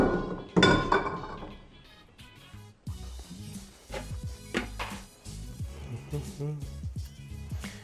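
Ice drops into a rocks glass for a Rusty Nail cocktail, a heavy knock followed by a run of clinks and clatters, close up with a voice talking over parts of it.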